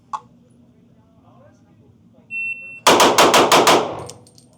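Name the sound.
rapid pistol gunshots, two rounds on each target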